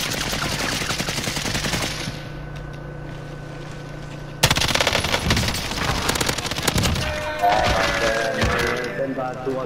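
Rapid bursts of gunfire and sharp cracks from the Warzone video game, dense and loud, with a few heavier blasts, while a player talks over the shooting.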